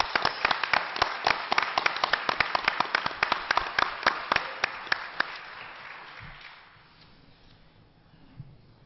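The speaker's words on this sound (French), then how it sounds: "Je demanderai à l'Assemblée une bonne main d'applaudissements" An assembly claps at the 2013 annual general meeting of a Desjardins credit union. Distinct, crisp claps come in a steady run for about six seconds, then die away into quiet room tone with one late clap.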